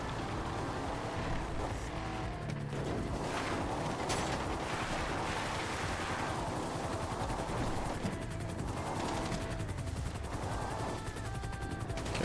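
Helicopter chasing the player in GTA V, a steady rotor drone buried under continuous gunfire, car sounds and busy game action throughout.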